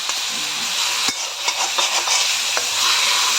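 Beef frying in a little oil, a dense loud hissing sizzle that fills the whole stretch, broken by a few brief scraping taps of stirring.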